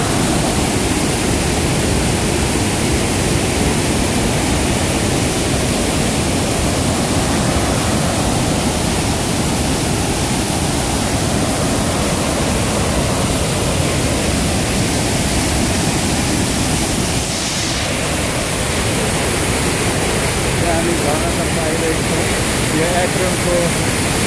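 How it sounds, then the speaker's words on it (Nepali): A large waterfall in an Ohio metro park rushes in a dense, unbroken roar that fills the whole clip at high, even loudness from start to finish. "यहाँ ठुलो झरना देखिरहनु भएको छ र धेरै ठुलो यहाँ झरना छ"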